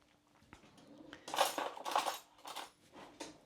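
A spoon stirs homemade dandelion pesto in a bowl, giving a few close clinks and scrapes in irregular bursts, with quiet gaps between strokes and no talking.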